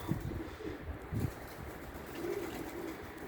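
Pigeons in a loft giving soft, low coos in a few short bursts near the start, then a steadier murmur of cooing, with a faint hum of background noise throughout.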